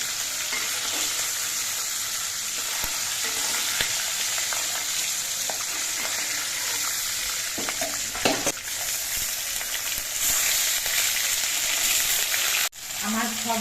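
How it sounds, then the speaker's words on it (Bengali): Steady sizzling of hilsa fish pieces lightly frying in hot oil, continuous and close, with a few brief clinks and scrapes, and a short stir near the end. "মাছটা দেখুন একেবারে হালকা করে ভাজা হয়ে গেছে"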